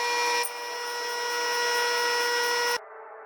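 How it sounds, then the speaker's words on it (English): A clipper blade is ground on a convex diamond sharpening wheel, making a steady, bright whirring hiss with a sustained tone that stops abruptly near the end, leaving a fainter lower hum. "I sharpen both sides of the blade on one wheel"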